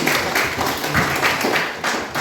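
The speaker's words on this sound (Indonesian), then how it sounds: "Oke, tepuk tangan buat mereka" A small audience at a school teaching session claps in short, uneven bursts that swell and fade over a couple of seconds, close and fairly loud.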